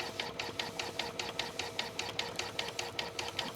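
An embroidery sewing machine stitching a monogram on a journal cover, a faint, steady rapid chatter of regular needle strokes repeating evenly throughout.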